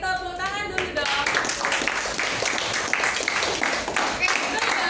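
Schoolchildren in a middle-school classroom clap their hands in a steady, lively burst after a brief spoken voice, the claps crowding together at close range for several seconds.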